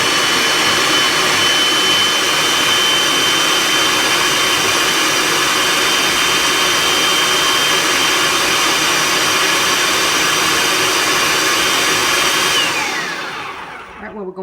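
A food processor on high runs continuously through cooked vegetables, a loud, dense whirring roar that holds steady for many seconds before winding down at the end.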